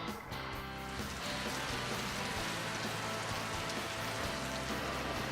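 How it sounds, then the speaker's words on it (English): Steady rain falls on a surface, forming a dense, even hiss of drops close by and continuing without pause for the whole stretch, with no voices over it. "Well, I told him it was gonna rain."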